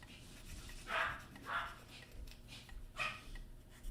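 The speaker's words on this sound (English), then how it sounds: "I hear dogs." Dogs barking at a distance, a few separate woofs and yips spread over a few seconds, not loud, over a quiet indoor background during model building.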